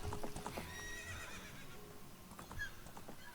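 A horse whinnies and gallops in The Legend of Zelda: Ocarina of Time in Gerudo Valley, a high whinny over quick clip-clop hoofbeats and soft game music.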